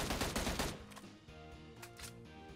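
A rifle fired through a scope lets off a rapid burst of gunshots at the start, which then gives way to a quieter tonal background. The whole passage is faint.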